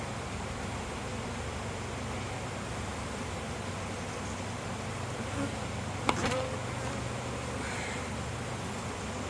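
Honey bees buzz in a dense, steady hum around an opened hive during an inspection, close and continuous, with one sharp brief knock partway through.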